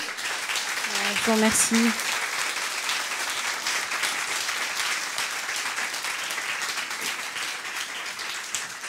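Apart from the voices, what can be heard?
audience applause for a speaker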